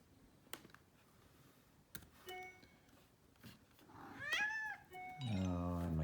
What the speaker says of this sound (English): And my cat just showed up to interrupt our video.